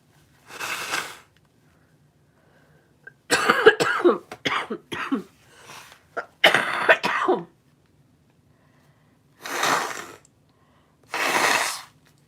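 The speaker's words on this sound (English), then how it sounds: "Let me blow my nose one more time." Several forceful nose blows into a tissue, close and loud, come in separate bursts with pauses between them, some short and clustered, the last two spaced apart.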